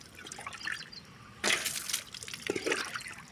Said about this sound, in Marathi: तर आधी सगळ्या गाडीवरती पाणी मारू तर खूप खराब झालेली आहे